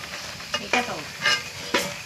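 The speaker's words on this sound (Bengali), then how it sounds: "আর একটু লাল হবে, তাহলে ফার্স্ট রাউন্ড কমপ্লিট পকোড়া ভাজা।" Pakoras deep-fry in hot oil, a steady bubbling sizzle broken by a few brief scraping stirs, close and fairly loud with no talking.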